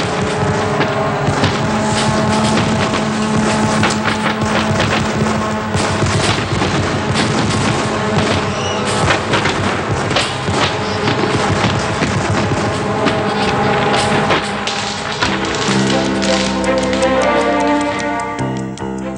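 Traditional fireworks bursting over the sea beside Cerro Barón, a dense run of sharp cracks and booms, loud and continuous throughout, with a lower rumbling layer underneath and the bursts thinning slightly near the end.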